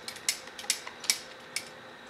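Quiet clicking and ratcheting of a camera housing for a Kodak Pixpro Orbit360 4K being screwed onto the bottom of a tripod, a few irregular ticks spaced across two seconds, close and soft.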